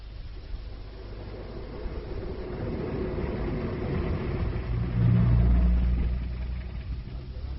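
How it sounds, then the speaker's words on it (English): A car engine hums at a low, steady rumble and swells as the vehicle pulls off, peaking near the end before easing slightly; the sound is moderate and somewhat muffled, heard alone without talk. "Now, get back in the car. We've quite a way to go."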